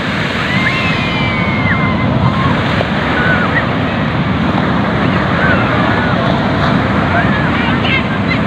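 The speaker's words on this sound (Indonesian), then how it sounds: "Ombaknya gede lagi nih, gede banget nih" Big ocean waves break and wash steadily at Karapyak beach in Pangandaran, West Java, a loud continuous roar of surf with wind noise on the microphone.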